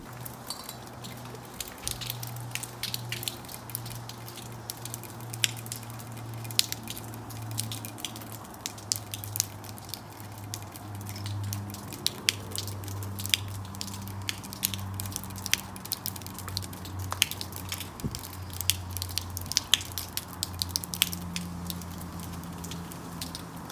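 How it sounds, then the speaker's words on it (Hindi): Melting snow water drips from a house roof onto the floor below, a steady stream of irregular taps and light splashes over a low background hum, with no talking. "ये जो पानी के ड्रॉप गिर रहे हैं फ्लोर के ऊपर, ये जो घरों की रूफिंग होती है, छत से पानी गिर रहा है"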